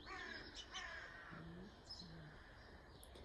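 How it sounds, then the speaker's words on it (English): Several crows caw nearby in short harsh bursts, with a couple of lower coos and faint chirps in a quiet outdoor setting. "can hear a few birds"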